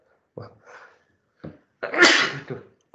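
A single loud, close sneeze with a sharp intake of breath before it, set against brief soft sounds in an otherwise quiet room.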